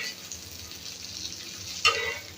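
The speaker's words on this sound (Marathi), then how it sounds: "आता ह्याला पण अशीच आपण फ्राय करून घ्यायची" Fish frying in a pan on a home stove, a steady crackling sizzle with soft stirring textures throughout and one brief sharper spit near the end; no voices.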